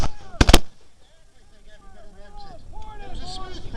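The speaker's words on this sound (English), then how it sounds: "The cannons involved in this battle today are 12-pound Napoleon cannons." A 12-pound Napoleon smoothbore cannon fires at an American Civil War re-enactment at Spetchley Park: one loud, sharp outdoor blast near the start, followed by lingering rumble while someone talks.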